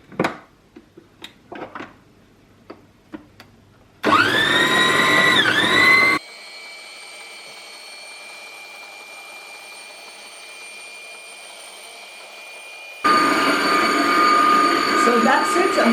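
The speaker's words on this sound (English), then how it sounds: "Then I'm going to start the whisking process before I add everything else." Electric whisk beating egg in a home kitchen, a loud steady whirring hum that starts abruptly after some quiet handling sounds, drops to a softer drone, then returns at full strength.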